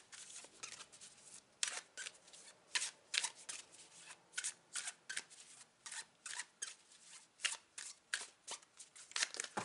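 A deck of animal spirit guide oracle cards is shuffled by hand, giving crisp, close riffling bursts that repeat in an uneven rhythm, each a short papery flutter, with no talking.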